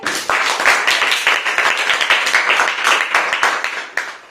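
A classroom of school students claps together to welcome a classmate, brisk close-up applause with a pulsing rhythm that starts abruptly and carries on for about four seconds.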